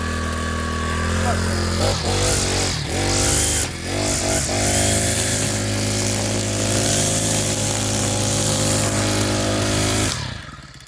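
A four-stroke Yard King whipper snipper with a missing idle adjustment runs loudly and steadily at high revs, with a few brief dips in speed, before cutting off near the end.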